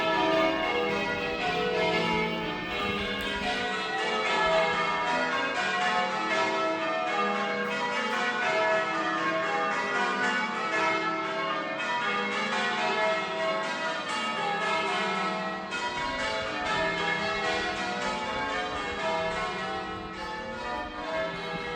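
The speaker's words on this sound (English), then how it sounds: "Let's have a look at the bells, shall we?" Church bells peal in Ludlow town, loud and continuous, with dense overlapping strikes ringing out alone for the whole stretch.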